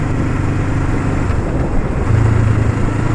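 A 1975 Honda CL360 Scrambler motorcycle engine drops into fourth gear while slowing, a loud, close, steady low drone whose pitch shifts downward partway through.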